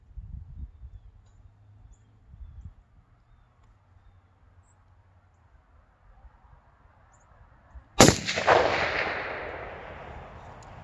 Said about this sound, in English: I'm going to take 1 more shot, and I should be very close.